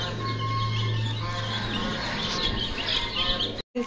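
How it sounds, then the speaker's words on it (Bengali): Ducklings and chicks brooding together peep and chirp in a busy, high overlapping chatter, close and continuous over a steady low hum, cutting off briefly near the end. "হাঁস মুরগির একসাথে ব্রুডিং"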